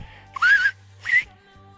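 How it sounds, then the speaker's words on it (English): Two short fingerless whistles made with the tongue against the teeth, bright wavering tones a little apart, close and clear over a low steady hum, with no talking. "the feeling you get when you first make that whistle sound"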